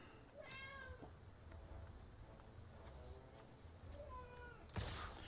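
A pet cat meows several times in a quiet room, a few drawn-out rising and falling cries spaced apart, fairly close but soft, followed by a brief sharp noise near the end.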